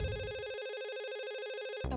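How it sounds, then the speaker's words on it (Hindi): A phone rings with an incoming call, a steady electronic ringtone holding a repeating warbling tone, loud and close, with a brief burst of other sound at the start and end. "टप्पू का कॉल, ये जरूर मुझे पिज्जा पार्टी में बुलाने के लिए कॉल कर रहा होगा।"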